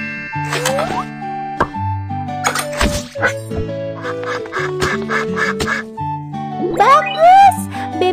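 A cartoon duck quacks several times in short, bouncy bursts, mixed with plops and other playful cartoon sound effects.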